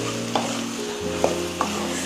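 Madurai-style mutton varuval stirred in a pan over a low flame, a close, steady sizzle with a few distinct scraping knocks of the spoon, and no voices.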